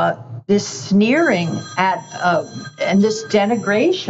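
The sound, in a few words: mobile phone ringing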